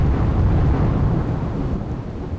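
Heavy downpour with thunder along the Diu coast, a dense, continuous roar of rain and rumbling thunder with no voices.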